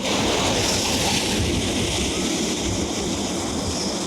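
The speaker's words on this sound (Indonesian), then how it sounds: "Aku yakin banget ini suaranya pasti bakal banyak anginnya, karena di bawah anginnya kencang banget." Strong wind buffets the microphone by the sea at Zelenograd near Kaliningrad. A loud, constant broadband roar of gusts mixes with surf noise for the whole stretch, with no clear speech.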